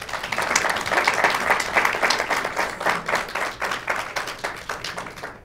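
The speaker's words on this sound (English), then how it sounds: "let's give our doctors a big round of applause" An audience at a live heart health event claps for the doctors, steady dense applause that fades toward the end.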